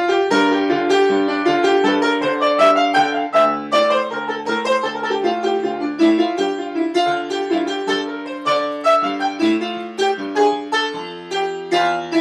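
Solo piano wanders through a jazzy improvised line, melodic runs with leaps and held notes over a steady lower accompaniment, clear and close.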